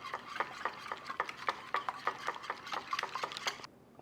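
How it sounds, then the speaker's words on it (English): Egg mixture with vanilla and a pinch of salt being whisked for thick French toast, a quick run of rhythmic clicking strokes against the bowl that continues steadily for several seconds, then stops. "Go ahead and give that a whisk."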